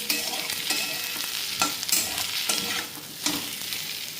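Garlic, ginger, cumin, green chilli and tomato fry and sizzle in hot oil for a fish curry, with steady crackling and a few stirring scrapes near and clear, no talk.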